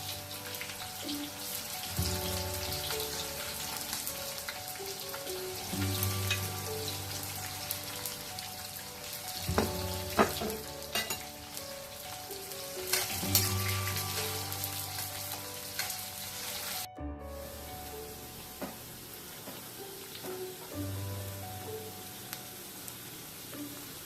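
Onions and green chillies fry in oil for fried rice, a long steady sizzle with intermittent stirring and utensil scrapes, and a brief pause before the frying resumes.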